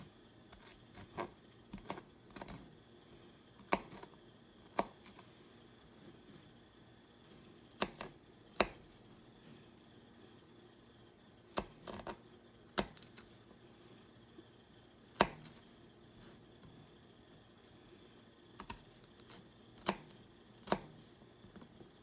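A kitchen knife chops food into finer pieces on a cutting board, producing sharp, irregular taps in small clusters with pauses between, fairly close but quiet, and no voices.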